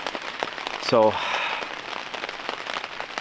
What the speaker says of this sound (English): Raining quite a lot now, pretty heavy, pretty loud.